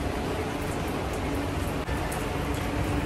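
Steady rain falls in Delhi, a dense even hiss of drops on surfaces filling the whole stretch, with one brief dip partway through and no talk.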